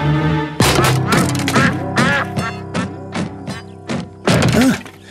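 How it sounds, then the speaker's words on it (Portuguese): A cartoon duck from the Pocoyo animated series quacks repeatedly and loudly, with nasal, bouncy calls in a quick irregular rhythm mixed with a few soft thumps. "Será que vocês podem dizer ao Pocoyo quem fez esse barulho? O pato!"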